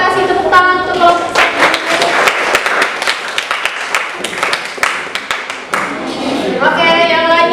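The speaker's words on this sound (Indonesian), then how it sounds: "Boleh kasih tepuk tangan untuk kelompok." Students in a physics classroom clap for a group, a burst of scattered, uneven hand claps at close range, mixed with voices before and after.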